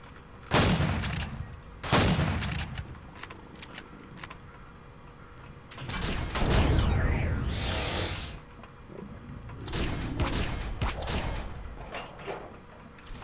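Laser rifle fire in the video game Empyrion, heard as several sharp bursts and volleys in clusters, loud and close with ringing tails and no talk over them.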